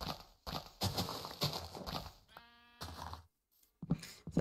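Sheep bleat in a hardcore Minecraft world, a string of close, loud animal calls with short gaps between them, broken by a brief tonal buzz and a quiet pause before more calls.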